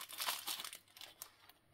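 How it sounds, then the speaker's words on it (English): A piece of paper is crinkled and crumpled close by, a quick burst of crisp rustling that thins into a few scattered crackles, quiet and alone. "You're going to need a piece of paper."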